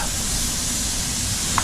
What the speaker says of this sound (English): Ribeye number 1, sizzle.